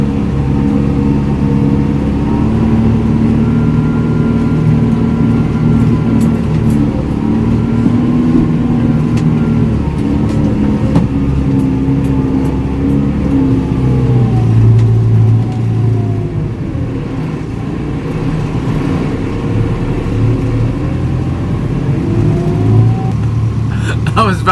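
Digger engine labouring through mud with wheels slipping, a heavy, continuous low diesel rumble that rises and strains, close and loud for the whole stretch, with a voice talking over it.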